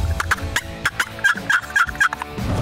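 Rapid repeated gobbling of a hand-operated turkey call imitating an Osceola gobbler, a series of sharp rattling bursts close by, practiced for hunting outdoors.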